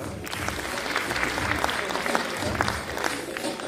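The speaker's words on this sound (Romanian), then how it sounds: "Aplauze!" Audience applause at a Culturism Masters Open bodybuilding competition, a dense wash of clapping from a crowd that stays steady and fairly loud for several seconds.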